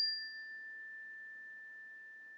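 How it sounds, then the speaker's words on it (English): A single chime struck by a kindergarten teacher rings out once with a clear, pure tone and fades slowly, quiet and alone. "Have you ever heard a chime sound?"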